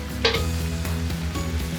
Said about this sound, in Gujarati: આપણે આ મરચાંને થોડીક વાર ચડાવવાના છે.